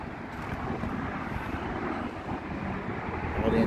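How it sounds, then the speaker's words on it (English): A 1995 Dodge Viper RT engine runs at a steady idle, a continuous broadband rumble with some wind buffeting on the microphone and no change in pitch, with no voices. "go ahead and fire it up so you can hear the engine run."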